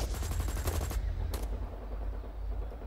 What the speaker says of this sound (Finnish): hirveä ammuminen